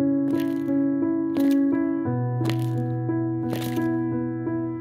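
Footstep sound effects triggered from a keyboard in Audio Design Desk software, about four evenly spaced soft steps roughly a second apart, heard over steady sustained music.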